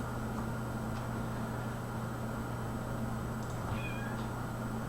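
A cat meows faintly outside a door, one brief call near the end, barely rising above a steady electrical hum in an indoor room.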